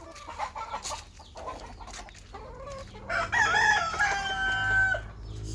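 Chickens at a small backyard rooster farm cluck and squawk, with a rooster crowing loudly near the middle; the birds sound close and agitated, with no talk.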